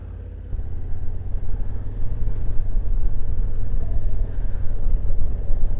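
A 2024 Honda Africa Twin motorcycle engine idles and runs steadily up close, a continuous deep rumble that grows slightly louder after the first second and holds a throbbing low beat throughout.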